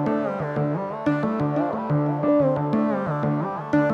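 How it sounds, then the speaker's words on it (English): Plug bass layer with a delay effect plays bouncy, gliding synth notes in a repeating phrase, each note echoed so the pattern swells and repeats every second or so, loud and upfront with no voices. "The next I added is another plug bass, but with a delay this time."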